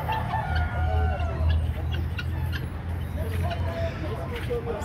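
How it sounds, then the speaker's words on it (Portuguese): Indian roosters crow and cluck amid a busy outdoor crowd at a bird and small-animal fair in Teresina, Piauí, their calls partly buried under steady chatter and market noise. "tá lá uns galos indianos, olha"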